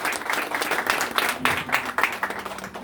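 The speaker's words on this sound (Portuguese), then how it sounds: "Então vamos aplaudir o Senhor Jesus." Applause from the guests at a church wedding ceremony, lively clapping in uneven bursts that swell and dip, close and fairly loud, with faint voices mixed in underneath.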